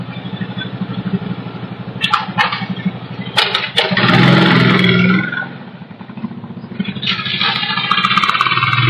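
A delivery rider's motorbike, carried in a trailer, rumbles steadily up close while sharp clatters and a louder surge of engine noise break in midway, then the engine settles back into a continuous low idle.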